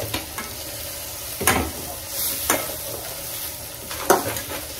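Turmeric powder being stirred into food in a pan, with a steady low sizzle and a few sharp scrapes of a spoon against the pan, near and fairly loud, with no talking.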